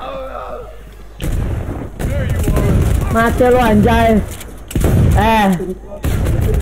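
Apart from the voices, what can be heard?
explosion and gunfire in a video game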